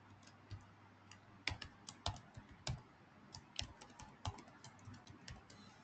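Computer keyboard typing while code is entered, a quiet series of irregular key clicks and taps with brief pauses, close and alone without talk.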